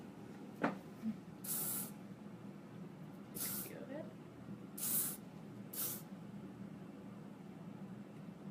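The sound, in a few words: hairspray being sprayed on hair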